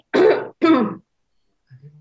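Two forceful throat-clearing coughs back to back from a presenter at a training lecture, close and loud, followed by a faint low murmur.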